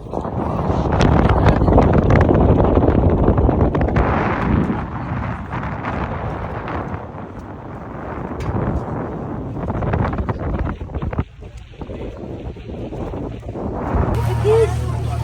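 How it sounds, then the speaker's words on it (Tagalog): Strong typhoon wind roars steadily across the microphone at Halong Bay, Vietnam, a loud continuous rumbling buffet with gusts rising and falling throughout. "Grabe ang hangin."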